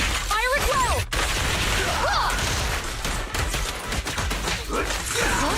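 Dense, constant gunfire and crashing impacts fill a battle in the action video game Zenless Zone Zero, loud throughout with swooping effects and voices mixed in.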